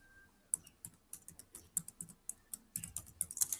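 Fingers tap quickly across a computer keyboard in an irregular run of crisp, close keystrokes that speed up toward the end, with no talking.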